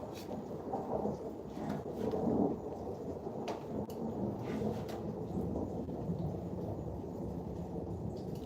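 Rolling thunder rumbles steadily through a thunderstorm, with heavy low booming swelling around the two-second mark and continuing as a dense, sustained roar with rain hiss beneath, no voices present.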